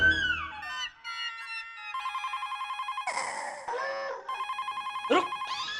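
A telephone rings in a Hindi TV sitcom household scene, repeated electronic trill bursts sounding several times over about six seconds, fairly loud and clear with music-like tones mixed in and no talk over it.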